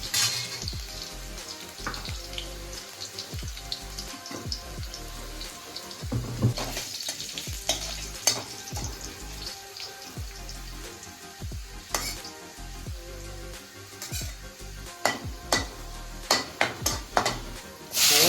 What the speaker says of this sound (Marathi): फ्राय करायची थोडीशी लसूण